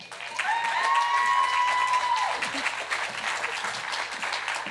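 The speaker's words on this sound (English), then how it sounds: "Well, that applause," Audience applause at a school awards ceremony honoring teachers, a loud sustained wave of clapping that swells and then gradually thins out, with a few whoops rising above it early on.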